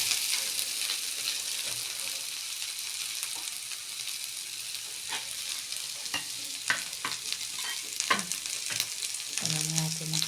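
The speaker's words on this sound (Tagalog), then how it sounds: "Luto-lutoin natin ng konti ang patatas. Konti lang ito yung mantika ng nalito." Potatoes fry in a little oil in a pan, a steady close sizzle with scattered scrapes and clicks of stirring, growing busier near the end.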